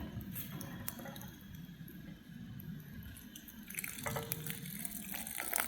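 Water splashes and trickles softly as a small amount is poured into a camp meal at a rainy bushcraft campsite, quiet and close, with faint wet dripping throughout.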